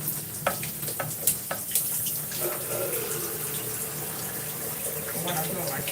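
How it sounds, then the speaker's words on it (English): Tap water runs steadily into a small plastic water bottle at a sink, a continuous hissing stream lasting throughout, with a few clinks and knocks early on. "let me fill my water bottle up. Then I can turn off the water."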